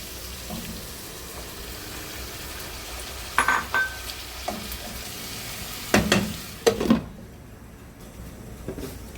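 Vegetables and cabbage for lomi sauté in a pan with a steady sizzle. A utensil knocks and scrapes against the metal in a few brief stirring bursts, and then the frying fades.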